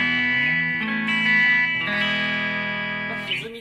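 A heavily distorted electric guitar on a Killer ash-body model weighing over 4 kg rings out in thick, sustained chords and notes, loud and saturated with a slight effects sheen, alone without voices.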